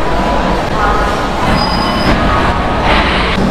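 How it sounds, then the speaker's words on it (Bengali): Howrah–Ranchi Hatia Express pulling into a platform at Howrah station, a steady loud rumble of rolling railway wagons with a brief high squeal of wheels and busy station noise throughout. "ট্রেনও দেখছি সাথে সাথে ঢুকে গেছে।"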